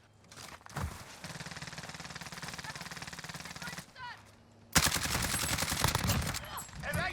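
Rapid bursts of automatic gunfire from the video game Call of Duty Warzone, with MP5 submachine gun fire among it. A sustained volley runs for several seconds, a short lull follows, then a louder, harsher burst, while players talk over the shooting.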